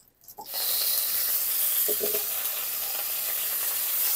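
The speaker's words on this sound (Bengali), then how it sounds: "এখন আলুগুলো লাল করে ভেজে নেব" A loud, steady sizzle of potatoes frying in hot oil in a kadai starts after a brief quiet moment and continues, with a few stirring scrapes.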